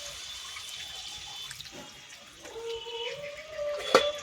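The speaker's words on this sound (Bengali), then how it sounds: "এই থোড়ের জলটা দিয়ে দেবো" Banana stem cooking water is poured into a pan of prawn and banana stem curry, making a soft continuous splashing pour under faint kitchen background noise, with a brief clatter near the end.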